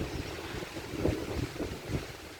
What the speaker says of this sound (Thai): ลมเป็นหัวเป็นหัวมา คล้ายๆว่าลมสาเนาะพี่น้อง